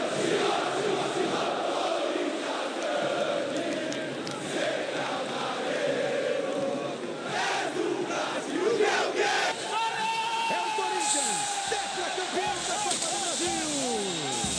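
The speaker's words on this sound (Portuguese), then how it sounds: "A festa da torcida do Corinthians, o grito de é campeão" Corinthians fans celebrating a Copa do Brasil title, a huge stadium crowd roaring and chanting "é campeão" in unison, loud and sustained, with firework whistles and bangs rising over the noise toward the end.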